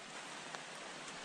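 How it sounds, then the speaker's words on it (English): Steady rain drums on a tent in the jungle, a close, even hiss of drops on fabric with no break. "Unfortunately, the rain beat me."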